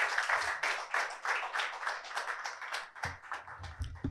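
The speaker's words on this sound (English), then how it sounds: "Can we all just give him a round of applause?" Audience applause for a speaker at a Nigerian ESG and sustainability roundtable: a roomful of people clapping steadily and fairly close, in dense rhythmic bursts, with a few heavier claps near the end.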